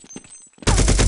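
Counter-Strike 1.6 gunfire: after faint quiet sounds, a loud sustained burst of automatic fire suddenly erupts and continues to the end, close and dominant.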